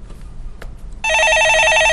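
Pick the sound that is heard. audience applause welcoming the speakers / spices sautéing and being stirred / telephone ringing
telephone ringing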